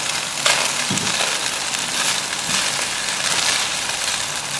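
Beaten egg and chicken stir-fried for chicken and vegetable fried rice crackle in a loud, continuous sizzle, broken by periodic scraping and tossing strokes of stirring, with no talking.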